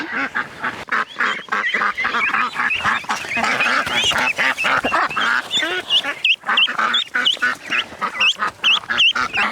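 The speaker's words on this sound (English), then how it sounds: "In Idaho here, we have a lot of ducks that we keep under this trampoline" A flock of ducks kept under a trampoline on an Idaho homestead quacks and honks loudly and continuously, many calls overlapping in a dense, close chorus with no talk.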